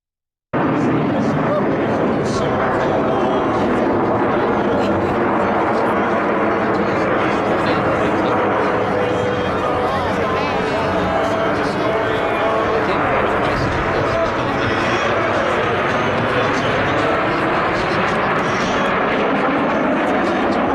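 Loud aircraft engines roar and drone throughout while someone talks over them.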